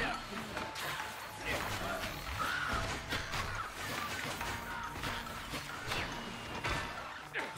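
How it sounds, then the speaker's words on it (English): Birds caw in the video game Have A Nice Death, a few harsh calls rising over busy game effects and background talk. "Birds."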